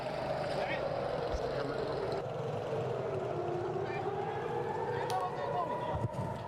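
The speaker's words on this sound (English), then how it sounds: "The howl of air raid sirens" Air raid sirens wailing over a deserted Jerusalem street, a long rising and falling howl carried across the city, steady and fairly loud throughout, with a few faint thuds near the end.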